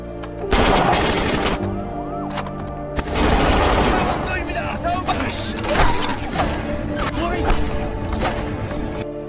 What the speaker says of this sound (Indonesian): Dalam baku tembak itu, Rio pun tertembak